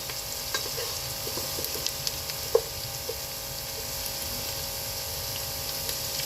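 Onions frying and sizzling in a pan with garam masala for aloo matar pulao, a steady close hiss with occasional stirring clinks and a sharp utensil tap.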